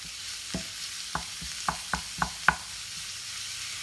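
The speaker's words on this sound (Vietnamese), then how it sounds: "Rồi bây giờ các bạn bỏ hết tỏi vô cho mình." Garlic hitting hot oil in an Instant Pot for bún bò Huế, stirred as it fries, giving a soft steady sizzle broken by about six sharp scraping clicks of a utensil against the pot.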